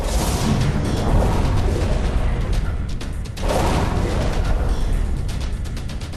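A World War II submarine torpedo launch and its explosion against an oil tanker's bow: heavy, continuous roaring rumble with deep booming surges, loud and dense throughout.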